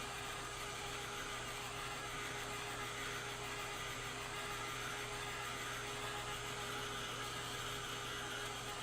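A heat tool blows a constant, even whir of air while heat-setting a paint layer on a mixed media lily piece, steady and unbroken throughout, with no one talking.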